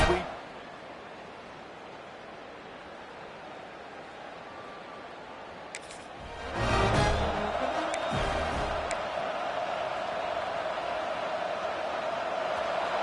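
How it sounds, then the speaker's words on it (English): Football crowd at the Los Angeles Coliseum during Ohio State versus USC, a low steady roar that surges loudly about halfway through and stays raised, with a voice talking over it. "this crowd trying to make life miserable for this offense."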